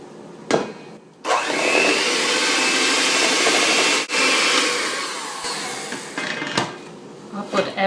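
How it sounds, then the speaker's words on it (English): A fast electric hand mixer whirs steadily through batter for a banana crumble cake, pausing for a moment partway before winding down, with a few clicks and knocks against the bowl around it. "a hand mixer and mix it all together"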